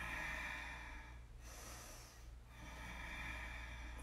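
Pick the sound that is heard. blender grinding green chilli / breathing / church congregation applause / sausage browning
breathing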